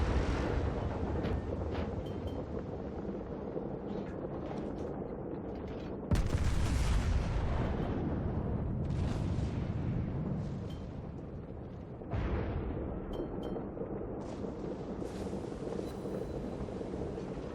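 Artillery shell volleys from World of Warships come in as heavy rumbling, rushing blasts in several waves. Each strikes suddenly, then fades into a sustained roar.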